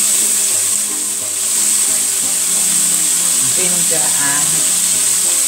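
Chopped ginger frying in hot oil, a loud continuous sizzle with a steady hiss, and a voice speaking briefly over it.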